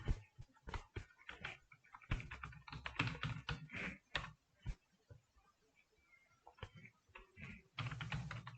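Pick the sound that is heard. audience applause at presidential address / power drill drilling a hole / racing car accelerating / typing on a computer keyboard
typing on a computer keyboard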